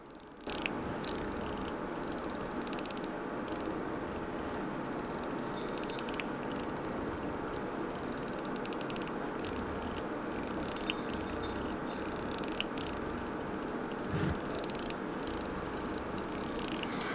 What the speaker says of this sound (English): This is a mechanical slider, and it's not just a mechanical slider, it's a screwless mechanical slider.